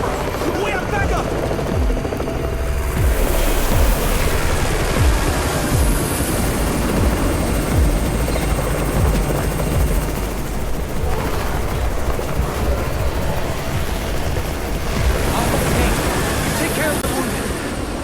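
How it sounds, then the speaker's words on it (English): A helicopter's rotor chop thrums loud and continuous over a battle in the zombie survival game Undawn, with gunfire and game sounds layered underneath throughout. "It's the Raven's chopper!"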